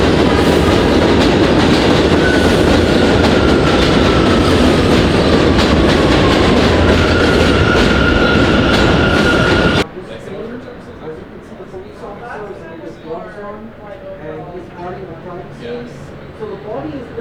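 A subway train rumbles loudly through a station in Bushwick, Brooklyn, a dense steady roar with wheel clatter and a faint squeal, then it cuts to a quieter platform scene where people talk.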